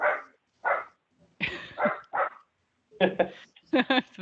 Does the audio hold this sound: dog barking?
yes